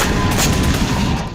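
Artillery explosions striking a rebel convoy in Idlib, Syria: a dense, loud, continuous roar of blasts and rumbling booms with no clear gaps across the short stretch.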